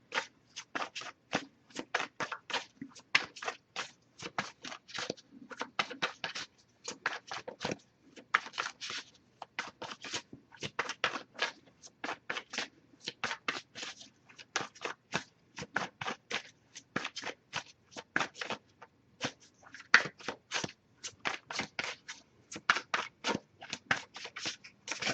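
Rapid, crisp flicking and riffling of oracle cards, shuffled continuously in quick bursts with brief pauses, close up and fairly loud, no voices.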